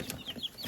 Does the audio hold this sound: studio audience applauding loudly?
no